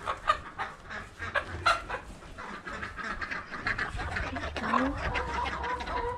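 Farm chickens, including a pair kept apart from the flock, cluck and chatter in repeated short bursts close by, with a brief spoken word partway through.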